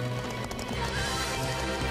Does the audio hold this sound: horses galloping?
yes